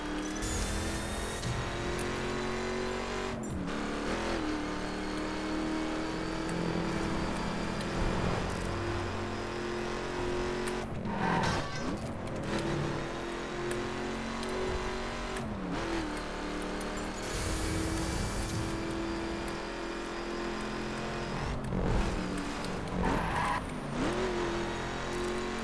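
A Ford Raptor in the racing game The Crew drives steadily along a highway, its engine droning continuously and loud with shifting revs, brief whooshes and tire noise over a constant game soundtrack, and no voices.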